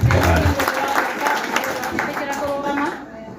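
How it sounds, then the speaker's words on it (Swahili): A crowd at a gathering claps loudly and continuously, a dense close burst of applause that thins slightly toward the end, with voices mixed in. "Mahũrĩrai makofi mega."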